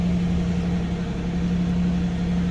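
The engine of a 2012 Hyundai Genesis BH330 sedan idles steadily with a deep, even rumble and low hum, close by and unchanging, with no voices.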